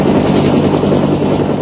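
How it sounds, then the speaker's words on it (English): Two or three military helicopters hover overhead during a Marine deployment in Somalia, a loud, continuous rotor and engine roar filling the whole moment with no voices. "As 2 or 3 helicopters hovered above them"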